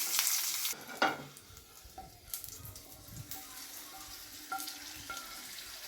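Green chilies crackle and sizzle in hot oil, loud at first and then settling into a softer fry, with a few scraping stirs and light clinks of a pan.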